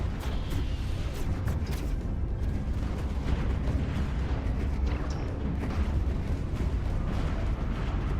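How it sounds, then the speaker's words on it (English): Torpedo barrage from warships in a Stellaris space battle, a continuous dense rumble of booming impacts and bursts, steady and loud throughout with no pauses and no voices. "They're hitting. Those are the torpedoes."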